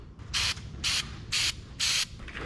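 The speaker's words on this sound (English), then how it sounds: "She's spraying out all the holes." Four short, loud hissing sprays from an aerosol cleaner can into the holes of an old, dirty carburetor, in a steady rhythm over a low background rumble.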